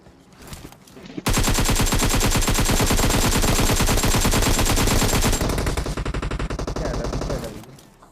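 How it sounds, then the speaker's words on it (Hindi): Sustained, loud automatic gunfire in the PUBG video game aimed at a buggy vehicle, rapid bursts running for several seconds with a short lead-in and tapering fire at the end, no talk over it. "पीछा तो क्या मतलब गोली बुरी तरह चलाते बग्गी वाले पे।"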